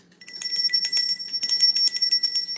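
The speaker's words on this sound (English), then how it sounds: "I'm going to ring my bell to clear the energy" A small bell rings out brightly to clear the energy, its rapid strikes blending into a shimmering, sustained high tone that stays loud and close for the whole stretch.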